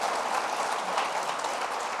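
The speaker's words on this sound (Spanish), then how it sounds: "Démosle un aplauso al Señor porque Él se lo merece." A church congregation at a Spanish-language worship service claps together in a dense, steady burst of applause that fills the room and holds at an even level with no speech over it.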